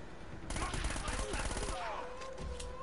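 An SMG fires a rapid, steady automatic stream in the Uncharted action game, the close, dense rattle holding for about two seconds with game sounds around it.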